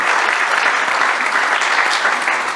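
Steady applause from an audience at a press conference for an Italian film award, dense continuous clapping held at an even loud level throughout, with faint voices beneath.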